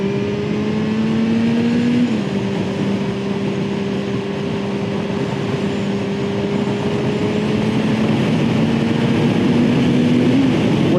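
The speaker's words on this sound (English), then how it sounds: "We're not even accelerating really hard." A fast car's engine pulls at roughly half throttle through track chicanes, a steady droning tone that shifts down once, then climbs slowly and evenly, loud and close with no talking.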